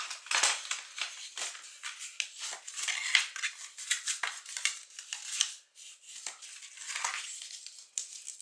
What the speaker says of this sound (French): je prends mon plioir et je fais mes plis